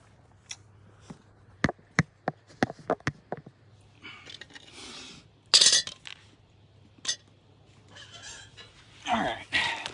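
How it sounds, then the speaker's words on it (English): Clanks, taps and scraping as a wheel is pulled off a boat and jetski trailer during bearing maintenance, a string of sharp close metallic knocks followed by rustling handling noises, with no talk. "So let me pull the wheel off."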